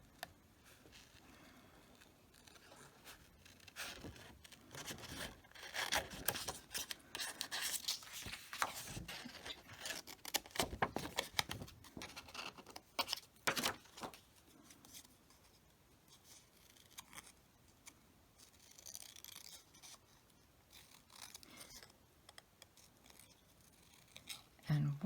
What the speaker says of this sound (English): we don't have a punch for this, so we're going to need to fussy cut this out